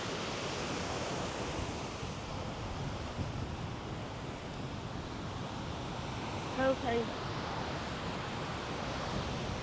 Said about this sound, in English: It's crazy how much spray is coming off this waterfall.